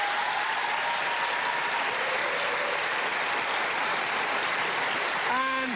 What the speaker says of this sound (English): Give a warm round of applause to John Elliott